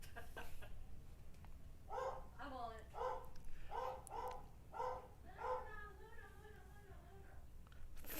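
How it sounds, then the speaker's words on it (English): A dog barks repeatedly at a fairly quiet, moderate distance, with about eight distinct yelping barks in an uneven rhythm and short gaps between them. "Dog's freaking out."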